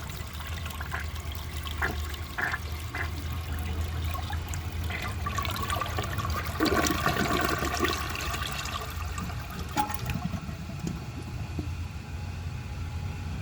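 A 1976 American Standard Cadet toilet flushes a grocery bag: a sustained rushing swirl of water, then gurgling and trickling as the bowl refills, heard nearby with no talking.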